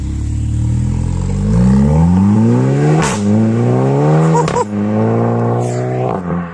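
A VW Golf 7 GTI tuned to Stage 1 with 320 hp revs hard and close, its engine rising and falling in pitch several times. Sharp exhaust pops and crackles cut through between the revs.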